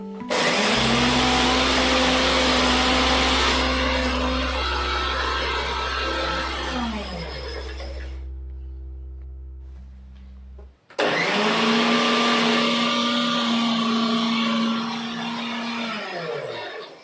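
A mixer grinder pulverising dried chillies and spices into powder for mango pickle roars loudly and close in two long bursts, with a short pause between them as the motor stops and restarts, and no talking.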